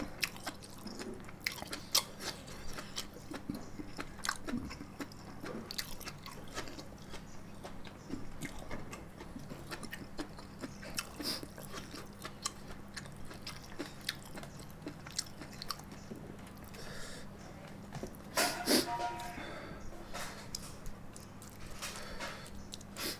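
Someone eats Thai beef om curry close to the microphone, with continuous wet chewing and small biting crunches over a low steady hum, carrying on with little pause and no clear talk.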